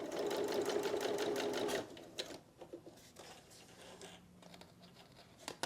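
Sewing machine stitching through a mixed media card, a fast rapid rattle of needle strokes for about two seconds, then stopping, followed by faint handling clicks and rustles.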